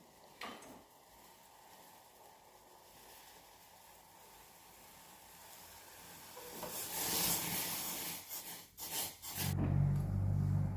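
Masala tea in a pan hisses and bubbles, the boiling building louder toward the end, with a few knocks of a utensil.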